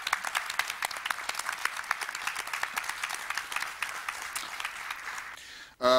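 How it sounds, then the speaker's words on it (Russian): Studio audience applauding on a Russian TV quiz show as team captains are called to the game table, steady dense clapping throughout that cuts off abruptly near the end. "Прошу вас, Андрей, вам аплодисменты."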